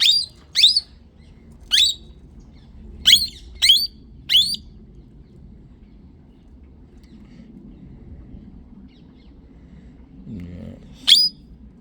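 A wild parakeet singing among other birds in a garden: a series of sharp, bright chirps in an uneven sequence, some in quick pairs, then a long pause and one final call, over a faint low background rumble.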